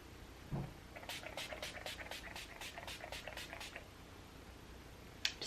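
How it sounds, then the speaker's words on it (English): Setting spray misted onto a face in about a dozen quick, evenly spaced spritzes from a pump bottle, close and fairly soft, with a brief tap near the start and a faint click near the end. "So I'm just going to spray this on my face."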